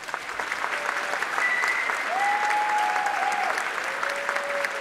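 An outdoor sunset concert audience at a Black Ship Festival performance applauds steadily, a dense sustained clapping with a few whistles rising over it.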